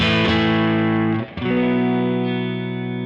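A sustained clean electric guitar chord, through a Neural DSP Quad Cortex, rings out with a brief break partway through, then rings on, fading slowly.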